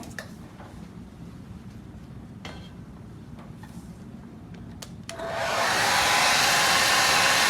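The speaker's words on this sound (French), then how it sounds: "je vais faire sécher un petit peu. Vous allez avoir du bruit un peu" After a quiet stretch with a few light taps, a hair dryer switches on and blows loudly and steadily, close up, drying PanPastel artwork.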